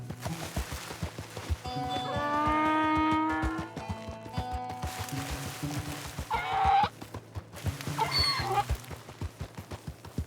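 A donkey brays repeatedly in the Red Dead Redemption roleplay game, loud honking cries rising and falling over steady game ambience, followed by two shorter harsh bursts.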